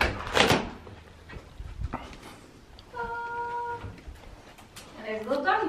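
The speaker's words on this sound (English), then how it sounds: "Opening up the doors." Doors in an art room overlooking the backyard are opened, with a sharp clack and rattling bumps early on, followed by a quieter scrape. A person speaks at points, and a dog-like whine sounds near the end.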